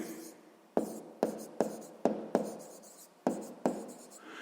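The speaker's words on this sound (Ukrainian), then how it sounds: "Пишемо тоді" Handwriting on paper while working a sixth-grade maths exercise, a series of about eight sharp pen or chalk strokes, each a quick scratchy attack fading out, close and alone.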